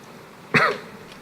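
A single short, sharp cough bursts out close by near the middle, with quiet room tone before and after.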